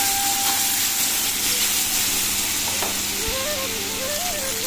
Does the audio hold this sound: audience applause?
no